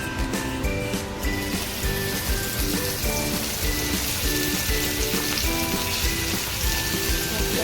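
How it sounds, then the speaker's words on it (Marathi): Marinated fresh prawns in lemon juice fry in a pan on a gas stove, giving a loud, continuous, rain-like sizzle that runs unbroken throughout. "आणि आता हे मी फ्राय करते."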